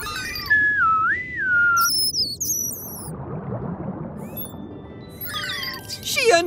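A person whistles in imitation of a dolphin's signature whistle, sliding up and down in pitch and warbling briefly, followed by higher squeaky chirping whistles and a soft watery wash underneath.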